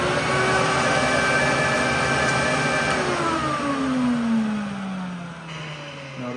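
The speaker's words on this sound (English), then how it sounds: "I'm going to lift and take the brush out of the way, and I will vacuum for one rotation." A VPI HW-17 record cleaning machine vacuums a spinning record, a loud steady whining suction drone with a falling pitch sweep as the motor changes, dropping off toward the end.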